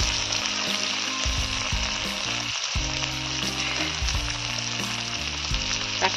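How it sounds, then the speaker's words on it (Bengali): Small crabs fry with turmeric and onion in a hot pan, a loud continuous sizzle and crackle over steady background music. "দিয়ে এইভাবে আমি ফ্রাই করছি"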